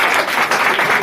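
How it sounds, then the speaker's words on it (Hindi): Loud, close clapping from a coaching-class audience, a dense burst of applause lasting about a second. "जोरदार ताली बजाएं"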